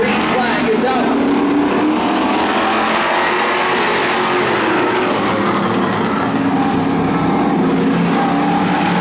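Stock car field of Super Street race cars roaring at Wiscasset Speedway as the green flag drops, a loud continuous engine drone under an announcer's commentary.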